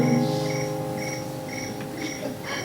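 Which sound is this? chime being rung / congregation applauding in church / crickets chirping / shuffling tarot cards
crickets chirping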